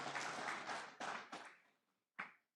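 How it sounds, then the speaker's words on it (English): Women in the audience at a Democracy Day public lecture burst into applause, a dense run of clapping that swells and fades in waves, stops briefly, then gives one last short burst. "I think women should clap for that."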